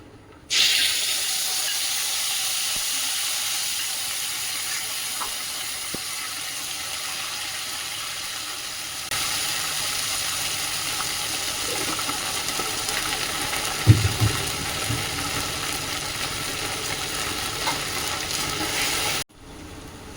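Tomato and ginger fry in hot oil with a steady, loud sizzle and spatter that lasts almost twenty seconds. A few soft knocks sound partway through, and the sizzle cuts off abruptly at the end.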